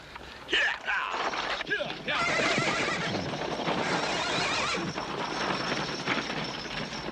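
Horses pulling a wagon whinny loudly amid a dense, rumbling din of hooves and commotion, with voices shouting over the noise.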